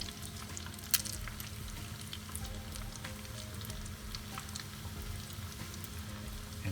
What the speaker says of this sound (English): all we're gonna do is fry the shrimp and get it nice and crispy